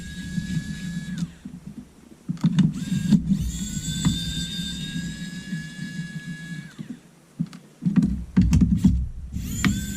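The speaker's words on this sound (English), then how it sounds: "We're able to undo all those screws." A rechargeable precision electric screwdriver from a 28-in-1 kit undoes small screws, its motor whirring in several bursts with steady tones between them and faint mechanical clicks, close and moderately loud.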